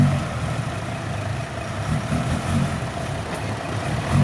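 A farm tractor engine runs while working on ground filled with mud, a continuous close, loud low rumble that holds steady with slight swells.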